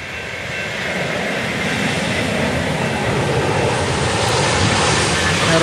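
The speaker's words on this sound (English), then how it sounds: "There goes an airplane." Airplane passing overhead near a CSX rail junction at College Park, a broad rushing engine roar that builds steadily and stays loud throughout.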